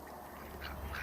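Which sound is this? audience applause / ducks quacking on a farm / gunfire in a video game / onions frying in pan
ducks quacking on a farm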